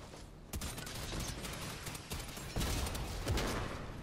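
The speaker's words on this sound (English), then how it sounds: "He's shooting a tank." Gunfire in Fortnite, a rapid series of sharp shots over continuous battle noise, close and steady with a few louder cracks.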